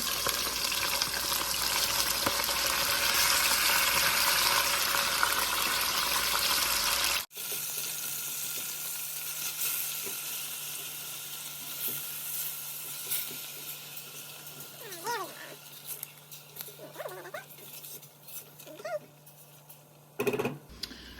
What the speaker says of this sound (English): All right, so I'm gonna let my meat brown up a bit.